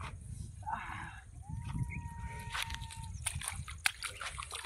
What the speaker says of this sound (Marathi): आता आपण जाणार आहे पाण्याच्या आतमध्ये आणि अशी उडी मारणार आहे ना